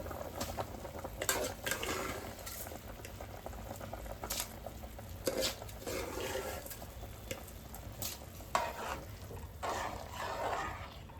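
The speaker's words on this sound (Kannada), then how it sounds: "ನೋಡಿ, ಇವಾಗ ಇದು ಕುದಿ ಬಂತು" Water for mutton biryani at a rolling boil with rice, a continuous bubbling and gurgling with irregular louder splashy pops, close and steady for several seconds, no talk.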